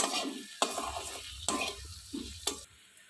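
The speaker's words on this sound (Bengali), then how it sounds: "এটা আমি এক মিনিট মতো জাস্ট নাড়াচাড়া করব বেশিক্ষণ না" A spoon stirs turmeric and sugar in a hot pan for a puti fish curry, with a gentle sizzle and several distinct scraping clatters at roughly one-second intervals, close up, no voices.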